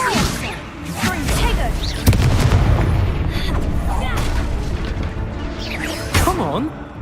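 Expulsor spell blast in the Hogwarts Legacy video game lands as a heavy booming explosion with a whooshing burst, amid game combat noise while several voices talk over it.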